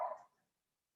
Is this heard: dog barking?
yes